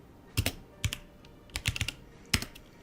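Someone types a short command on a computer keyboard, a few separate clusters of close, crisp key clicks with brief pauses between them.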